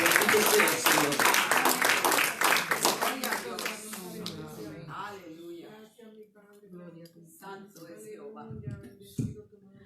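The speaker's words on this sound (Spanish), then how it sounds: "Vamos palmas para nuestro Padre" Congregation clapping hands together during a Spanish-language church worship service, dense rhythmic claps loud at first and thinning out after a few seconds, mixed with a voice and singing.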